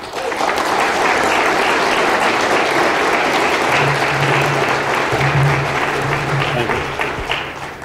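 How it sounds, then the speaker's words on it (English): A conference audience at Black Hat Europe 2013 applauds steadily and loudly throughout, the clapping sustained with a few faint cheers mixed in. "a round of applause"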